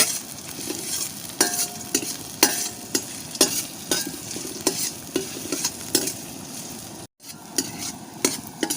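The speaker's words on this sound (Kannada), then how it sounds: "ಜಜ್ಜಿದಂಥ ನಾಲ್ಕು ಬೆಳ್ಳುಳ್ಳಿಯನ್ನು ಕೂಡ ಹಾಕಿ ನಾವು ಇದರ ಜೊತೆ ಫ್ರೈ ಮಾಡಿಕೊಳ್ಬೇಕು" Crushed garlic and sesame seeds fry in a pan for chutney, with rhythmic scraping stir strokes over a continuous close sizzle and no talking.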